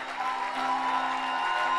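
A church congregation applauds and cheers after a pastor's call, a brief steady wash of clapping with faint crowd voices and a sustained tonal hum underneath.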